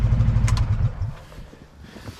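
A Coleman Outfitter 400cc UT400 UTV engine idles with a close, low rumble that cuts off after about a second, leaving a quiet tail with faint clatter.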